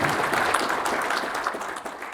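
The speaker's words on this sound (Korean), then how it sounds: "큰 박수 한번 부탁드리겠습니다." Applause from the audience at a book launch for a publication about separated families fills the room as a dense, continuous crowd clapping that holds steady and eases slightly near the end, with no talk heard.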